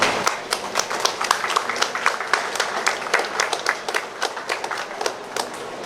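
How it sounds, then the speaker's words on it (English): At a Moncada celebration gathering, an audience breaks into a round of applause, a crisp run of rapid, distinct hand claps from a modest crowd, fairly close and steady for several seconds. "we want you all to give yourselves a tremendous round of applause"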